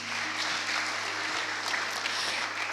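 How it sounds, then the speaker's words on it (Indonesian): A church congregation gives a steady round of applause during a sermon, a dense, continuous patter of many hands clapping with a faint sustained tone underneath and no speech. "Tepuk tangan dulu buat Tuhan Yesus."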